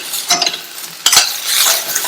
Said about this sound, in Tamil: இதுல 1/2 கப் அளவுக்கு தேங்காய் துருவல் சேர்த்துக்கலாம். நல்லா கலந்து விட்டுருங்க.